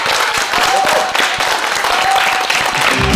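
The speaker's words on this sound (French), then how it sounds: "on va les applaudir quand même très fort pour ce nouveau deuxième titre" A concert audience at a local culture night applauds a band loudly and continuously, dense clapping filling the space with a brief cheer mixed in.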